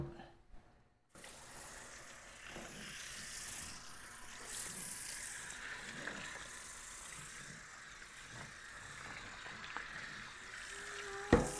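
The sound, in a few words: washing pork bones under running water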